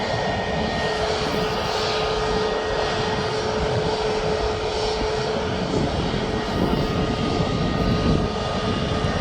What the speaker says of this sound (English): I'll zoom in so you can see the registration of the aircraft.